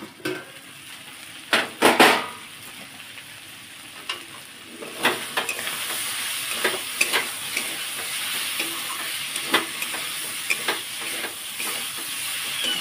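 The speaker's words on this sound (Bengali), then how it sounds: "ভালোভাবে কষে নিয়েছি," Chicken sautéing in a pan for puli pitha filling, with a steady close sizzle and repeated scraping stirs and clinks of a utensil against the pan, loudest in a burst early on.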